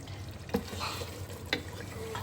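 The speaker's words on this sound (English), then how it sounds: "let's have a look at the chicken. It's sizzling" Close, steady sizzling of chicken karahi frying in a pan, with a couple of brief scraping stirs cutting through the crackle.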